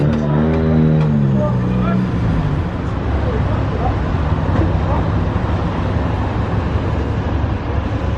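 A heavy truck pulls away after delivering hypercars in Monaco, its engine rumbling up with a low harmonic drone for the first couple of seconds, then settling into steady broadband road noise.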